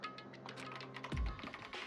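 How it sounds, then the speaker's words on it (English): Rapid keyboard typing effect from the visual novel Danganronpa: Trigger Happy Havoc, a steady patter of quick clicky key taps with one duller thump partway through, close and fairly quiet. "Kyoko began typing, the words appearing as fast as I could read them."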